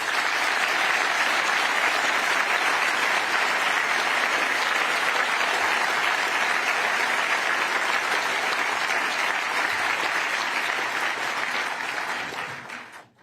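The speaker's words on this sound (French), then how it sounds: "Merci de les applaudir." Sustained applause from an audience at a French community gathering, steady and dense for about thirteen seconds before tapering off abruptly at the end.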